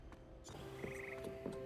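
A choir of frogs in Hogwarts Legacy croaks in quick rhythmic bursts mixed with tuneful, singing tones, fairly faint and close, with a few croaks repeating in a short sequence.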